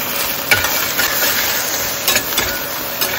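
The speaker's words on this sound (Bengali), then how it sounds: "এই তেলের মধ্যেই একটু কালো জিরে আর রসুনের ফোড়ন দিচ্ছি" Black cumin seeds and garlic tempering in hot oil give a steady close sizzle and hiss, with a few sharper crackling pops breaking through the continuous frying noise.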